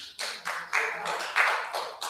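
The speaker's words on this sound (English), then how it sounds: "No applause, please." People in the audience at a Cape Coral city council meeting break into applause. Several loud bursts of clapping rise and fall close together over a couple of seconds.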